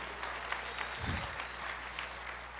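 A church congregation applauds at a resurrection-themed service, a sustained wash of clapping with a low hum of the sound system underneath.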